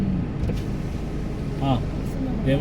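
Inside a moving car, a low, steady road rumble and engine hum run beneath a person talking, with a few faint clicks and squeaks.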